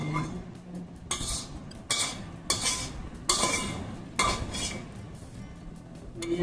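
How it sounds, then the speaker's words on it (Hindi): Repeated scrubbing strokes against a metal pressure cooker, rhythmic bursts of scraping with small clinks between, close and moderately loud. "कुकर को मैं साफ कर देगा पूरा प्रॉपरली"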